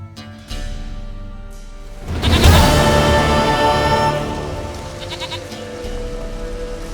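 A goat bleats in The Witcher III, a wavering, drawn-out cry rising over a steady game ambience with background music, fairly loud and close, with no talk over it.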